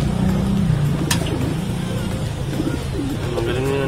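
A tippler pigeon coos in low, soft, repeated calls, heard close over steady traffic noise and a rumbling vehicle in the background.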